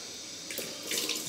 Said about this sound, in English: wash off the blade. Cold water.